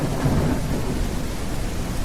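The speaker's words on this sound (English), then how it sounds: "Terrible storm." Thunderstorm in the survival game The Isle Evrima: heavy rain pours with a deep, continuous thunder rumble, loud and close, with no voices.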